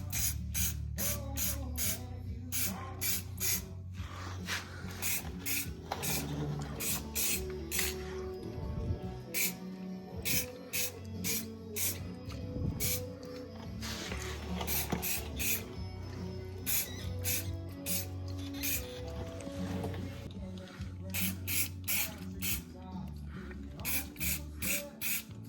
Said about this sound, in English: I'm gonna spray paint all of this up in here because there's a little bit of surface rust